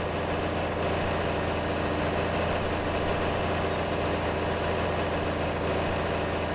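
Massey Ferguson tractor engine in Farming Simulator 22, a steady low droning hum that holds at an even level with no voices.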